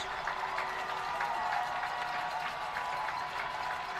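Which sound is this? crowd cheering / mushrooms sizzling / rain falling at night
crowd cheering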